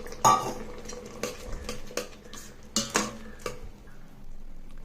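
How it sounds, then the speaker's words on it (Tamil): A mustard seed tempering is tipped into bottle gourd kootu and stirred, with sharp clinks and scrapes of a metal spoon against the pot in irregular bursts, fairly close and alone. "இப்போ நம்ம இந்த கடுகு தாளிச்சதையும் இதில் ஆட் பண்ணிவிட்டு எடுத்துடலாம்"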